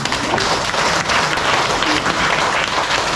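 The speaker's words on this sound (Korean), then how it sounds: "박수 치십시오." An audience at a health lecture claps in steady, dense applause that fills the whole clip at full volume, loud and continuous.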